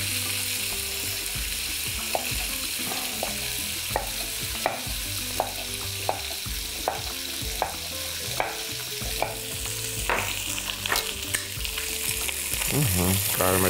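Meat and onions browning in a kazan for khorovats, a steady sizzle under regular clinks and scrapes of a utensil against the pot, moderately quiet and close with no speech.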